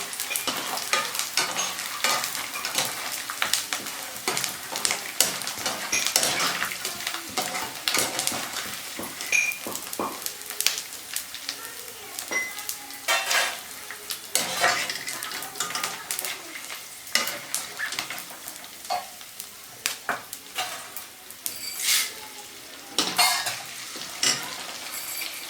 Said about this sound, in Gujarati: હવે આપણે ગુંદરને તળી લેવાનો છે.